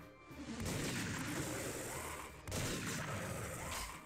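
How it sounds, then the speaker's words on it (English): Gunfire in the video game TimeSplitters, in the 1965 Mansion mission, a dense burst of shots and crashing impacts blending into a loud, continuous roar with a brief break in the middle. "I did hear a shot, by the way"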